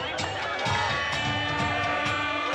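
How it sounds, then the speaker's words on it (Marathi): Onlookers at an outdoor kabaddi match shout and cheer together, a dense roar of many voices that swells and stays loud throughout. "आपला भिडू बच्चू कडू म्हणत तेथील प्रत्यक्षदर्शींनी जल्लोष केला"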